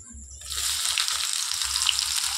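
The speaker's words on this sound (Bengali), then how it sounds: "পেঁয়াজটা হালকা লাল করে ভেজে নেব" Steady, close sizzling of chopped onions frying in hot oil with whole spices, a bright continuous crackle with a faint low hum underneath, no voices.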